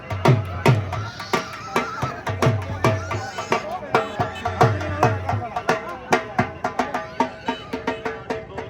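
Horses neigh at a village fair horse race in Punjab, with loud, steady dhol drum beats pounding throughout and people talking in the background.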